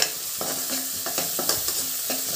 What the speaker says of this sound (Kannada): ಎಲ್ಲ ಹಸಿ ವಾಸನೆ ಹೋಗೋವರೆಗೂ ಫ್ರೈ ಮಾಡ್ಕೊಳ್ಳಿ.